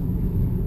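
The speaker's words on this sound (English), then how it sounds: "I'm in a Toyota Corolla that's about 6 years old" Steady low interior road rumble from a six-year-old Toyota Corolla on the move, a loud, unbroken drone with no voices.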